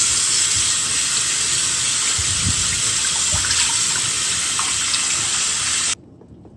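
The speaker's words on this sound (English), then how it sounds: "And then we're gonna rinse under cold water." Steady hiss of cold tap water splashing into a sink as fish is rinsed, with soft clunks of handling underneath, continuous until it cuts off abruptly near the end.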